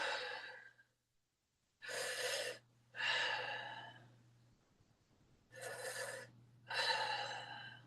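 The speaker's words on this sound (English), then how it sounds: "do a couple breaths like this." Four deep, audible breaths during an exercise class, each a strong rush of air lasting about a second. They come in two spaced pairs, close and clear with no talking.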